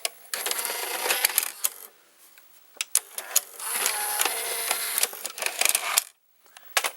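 Carriage mechanism of a Fisher FVH-825 VCR running, a close, busy train of mechanical clicks, whirs and rattles in bursts, with a short pause before it resumes.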